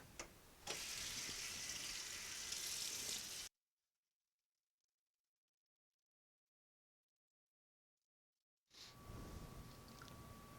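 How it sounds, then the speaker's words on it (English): Cool tap water runs over sturgeon skins in a sink, a steady splashing rinse that stops abruptly and leaves a long silence before the running water starts up again. "I'm just going to rinse it off with cool water to make sure I get all the soap off"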